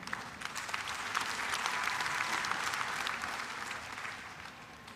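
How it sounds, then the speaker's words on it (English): A church congregation at a Uganda Martyrs Day eve service claps together in sustained applause. The clapping is dense and steady, swells in the middle and then fades slightly toward the end. "Let us give God a mightier hand clap."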